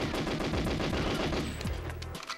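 Rapid automatic gunfire from GoldenEye 007 rattles almost continuously, a dense loud stream of game shots with brief pauses near the end and no talk.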